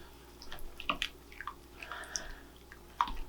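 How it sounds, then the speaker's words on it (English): Maple oat bread dough mixture being stirred in a bowl, heard as faint wet squishing and soft irregular clicks of the spoon, close and quiet, with no talking. "right now I'm just going to stir this mixture together"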